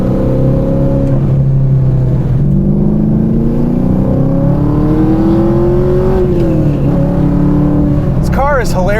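A 1999 Chevrolet Camaro engine revs and accelerates, its note climbing steadily and loud and close throughout, with a voice talking over it.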